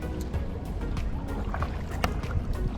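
Kayak paddling through calm water in the Florida Keys, with steady soft splashes and dips of the paddle close by over a low, constant wash of water.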